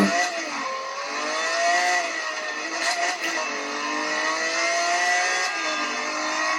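A Lamborghini engine in Need for Speed Most Wanted 2012 revs and accelerates steadily, its pitch rising and shifting through gears, loud and continuous with a faint voice underneath.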